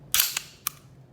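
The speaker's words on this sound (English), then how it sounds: "You actually have to pull the slide back" A SIG P320 pistol slide is racked back and snapped forward, giving a sharp metallic clack followed by a second short click, close and crisp against a quiet background.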